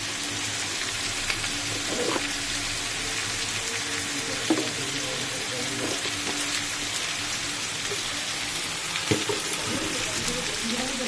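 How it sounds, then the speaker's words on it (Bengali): A fish head fries with turmeric in a pan, giving a continuous close sizzle and crackle like steady rain, with occasional soft clinks of stirring and faint talk beneath. "নেড়ে একটু ভেজে নেবো"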